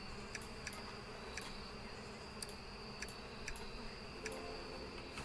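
Bees from the beekeeping video game APICO hum in a faint, continuous drone, with soft periodic clicks from the game scattered through it.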